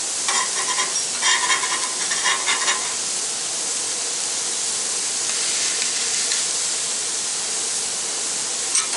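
Jalapeno onion smash burgers sizzle loudly on a Blackstone griddle, with a wide metal scraper rasping underneath them in a few quick strokes early on, then a steady frying hiss that carries on alone.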